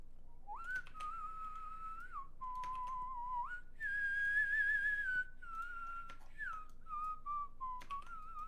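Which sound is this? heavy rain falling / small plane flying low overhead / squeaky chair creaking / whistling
whistling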